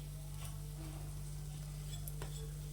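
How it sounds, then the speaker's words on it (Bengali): Bori, small lentil dumplings, frying in hot oil in a pan with a steady soft sizzle and a few faint stirring scrapes, quiet and continuous. "মাছটা ভাজার আগে আমি একটু বড়ি ভেজে নেব"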